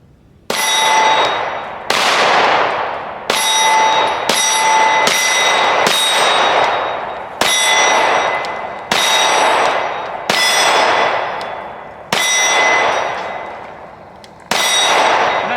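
A Shadow Systems MR920 pistol fires repeatedly at irregular intervals, each loud crack followed by a ringing, fading echo, about a dozen shots in all.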